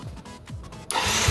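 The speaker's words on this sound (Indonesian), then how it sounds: "Kita nyalakan mesin." A motorcycle engine cranks with a few rhythmic starter pulses, then catches and settles into a steady, fairly loud idle close to the listener.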